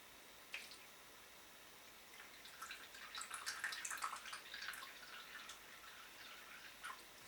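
Water trickles and splashes softly as it is poured into a disposable face mask resting on napkins. The pouring is faint and close, in uneven dribbles that build and then taper.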